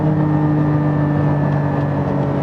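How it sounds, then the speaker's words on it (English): Loud, steady engine drone with a strong low hum from a Porsche 911 or 718 Cayman GT4, the gearbox auto-blipping the revs, close and continuous. "But just listen to the auto blip a bit."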